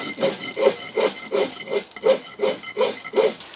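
A file strokes across a pewter casting in a steady back-and-forth rhythm, about nine close, even rasping scrapes in under four seconds, with no talk.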